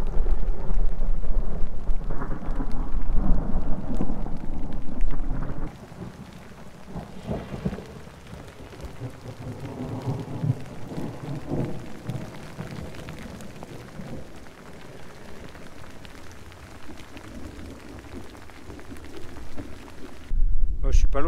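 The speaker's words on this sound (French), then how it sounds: "Donc ça commence à pleuvoir doucement. Ça tonnait jusqu'à maintenant" Steady rain patters on a mountain trail near the Col de Malmort in the Ubaye valley of the French Alps, with loud rolling thunder rumbling low throughout and a voice heard at times beneath the storm.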